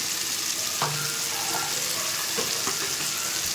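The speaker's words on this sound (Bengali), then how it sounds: "টমেটোটা নরম হয়ে এসে এবার এখানে জিরে গুঁড়ো দেবে, জিরে গুঁড়ো, রেড চিলি পাউডার" Cumin powder and red chili powder frying with softened tomato in a pan for a rohu fish curry with cauliflower and potato, a steady close sizzle with faint stirring scrapes, no talk.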